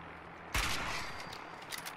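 A single loud gunshot in Fallout 4, one sharp blast with a decaying tail, and no talk.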